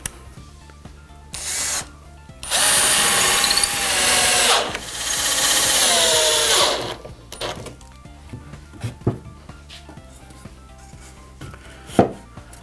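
A power drill drives screws into a wooden pallet workbench in two long, loud whirring bursts of several seconds each, followed by quieter clicks, knocks and one sharp tap near the end.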